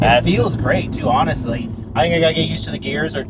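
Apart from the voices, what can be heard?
No distinct noise like a dog, phone or traffic.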